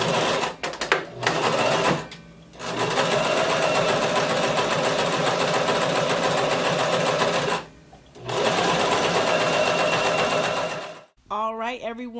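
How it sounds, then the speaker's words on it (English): A sewing machine top stitches a fabric hem on an off-the-shoulder maxi dress, running in two long continuous bursts separated by brief pauses, loud and close, with a short spoken bit at the end. "I'm going to flip it over and do a top stitch to hem it."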